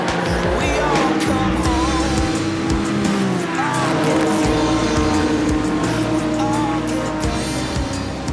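Porsche race cars compete at the Spa Classic at Spa, with loud, continuous engine roar from several cars revving and passing close by and occasional tire squeal.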